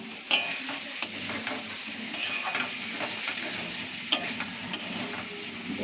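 Potatoes frying in not-yet-hot oil in a pan for a fish recipe, a soft steady sizzle with a spatula stirring and occasional sharp clicks of utensil against the pan, close and without talk.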